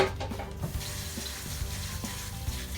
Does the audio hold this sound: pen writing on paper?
no